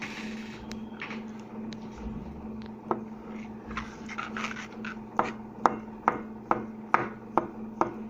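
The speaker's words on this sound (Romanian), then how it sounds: "Aici am 4 ouă pe care le-am fiert. Le tocăm mărunt." Knife chopping four boiled eggs finely on a cutting board for a festive mushroom and chicken breast salad, soft irregular taps building into a steady run of sharp, close chops toward the end.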